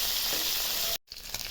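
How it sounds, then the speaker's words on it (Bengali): New potatoes sizzle and fry loudly in a pan with a constant hiss, then cut out briefly before the crackling resumes. "আলুটা ভেজে নিচ্ছি।"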